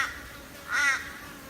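A crow caws once in the distance during an outdoor boar hunt, a single faint call over quiet background hiss.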